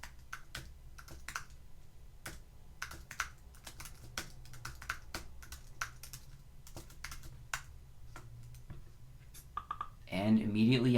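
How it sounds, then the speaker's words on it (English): Typing on a computer keyboard to fill in contact form fields, a steady run of close, light key clicks in quick irregular bursts, ending with a short clatter of louder sound. "So I'll just type in these fields."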